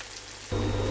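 Chicken pakora drops into hot oil and a dense, loud frying sizzle erupts halfway through, replacing a softer background hiss and continuing steadily to the end.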